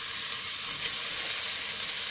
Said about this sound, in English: The bacon has been frying off for a few minutes.